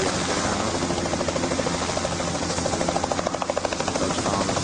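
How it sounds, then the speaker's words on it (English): A helicopter lifts off from a football field at a homecoming game. Its rotor pounds in a loud, steady rhythmic thump over broad engine roar and wind noise. "It's a helicopter lifts off the ground."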